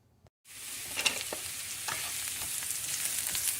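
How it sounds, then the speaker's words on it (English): Cucuzza squash sautéing in a pan with garlic and olive oil, a steady close sizzle with faint stirring clicks after a short silent start. "And so I got the cucuzza in here with the garlic, the olive oil. Stir it around, saute it for, I don't know, 5-6 minutes"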